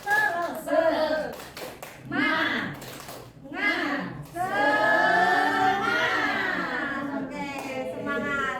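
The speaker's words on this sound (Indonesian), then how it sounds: "tepuk semangat" Participants at a workshop session perform a rhythmic group clap in quick, patterned bursts, then voices chant and shout together loudly, with the clapping mostly giving way to the chanting.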